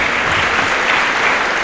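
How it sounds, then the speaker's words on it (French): A congregation at a communion and confirmation mass in Ouakam applauds, a dense steady wash of clapping from many hands, loud and sustained throughout. "Applaudissez pour vous."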